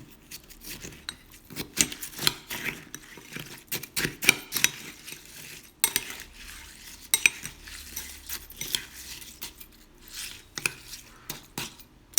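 A spoon stirs a shaved-ice young coconut drink with rapid, uneven scraping and clinking of ice against the container, close and busy for the whole stretch, with brief pauses between bursts.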